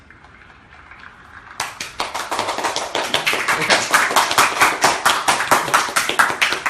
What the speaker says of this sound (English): And a little bit of applause.